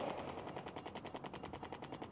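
Rapid machine gun fire from an aircraft in the mobile air-combat game Sky Fighters, a dense continuous rattle of shots over engine-like roar, loud and steady with no talk.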